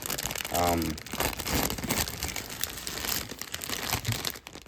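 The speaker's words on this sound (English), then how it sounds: "So let's open this bag and let's see what we got." A plastic bag of Gunpla model kit parts is opened and handled up close, giving steady crinkling and rustling throughout.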